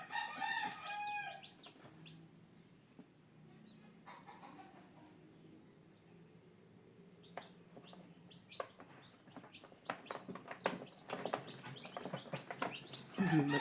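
Gamefowl chickens on a farm cluck and call during feeding, scattered bird sounds at moderate distance with quiet stretches between, building to busier pecking and clucking toward the end.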